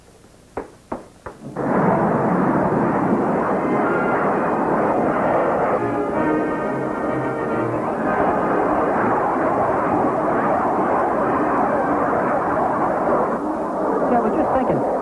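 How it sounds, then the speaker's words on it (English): An airplane engine roars in an old radio drama, starting after a few sharp clicks and then holding a loud, steady, broadband drone that fills the scene. "Hickey, get the plane ready."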